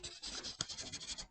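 Quick scratchy strokes of writing an entry on paper or board during an accounting lesson, a short rhythmic burst of pen or chalk marks heard close and alone.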